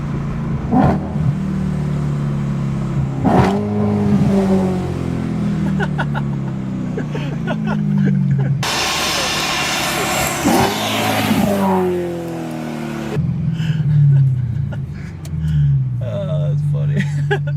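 A BMW M3 with the S65 V8 engine revs hard toward about 7,000 RPM, loud rising and falling engine roars in several pulls with a sharp high-rev burst in the middle, nearby people talking between pulls.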